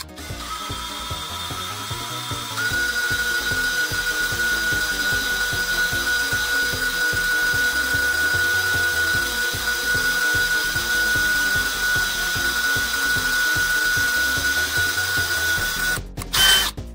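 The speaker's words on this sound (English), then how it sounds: "then you come in with the bigger drill bit" A power drill fitted with a larger bit whirs steadily for a long stretch while drilling a hole, a continuous loud motor drone with a high whine, starting softer before rising and stopping near the end.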